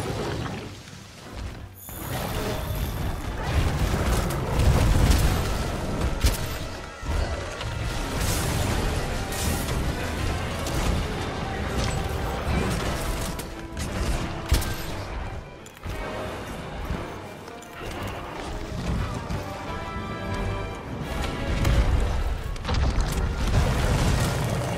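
Explosions boom and crash repeatedly during a Monster Hunter: World battle against Deviljho, loud and dense with bursts spread throughout amid continuous rumbling game action.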